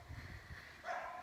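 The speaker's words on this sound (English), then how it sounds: "hopefully the dogs are not being just like so loud from over here." Distant dogs bark and yip while playing, a few times, faint and playful, with a higher whining bark near the end.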